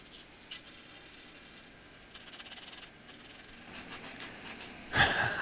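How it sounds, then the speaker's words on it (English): A part for a homemade CNC machine's linear rail is sanded by hand with soft, close rubbing strokes that grow quicker and a little louder toward the end. "actually needs to be sanded everywhere"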